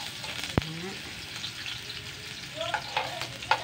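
Ginger frying in a skillet, a soft continuous sizzle with a few sharp clatters and scrapes of utensils against the pan, close by and without speech.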